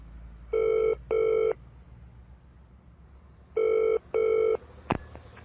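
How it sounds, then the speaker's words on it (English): A telephone rings in two double-ring bursts, clear and fairly loud, with a short click after the second pair. "So I found my phone and called Wing"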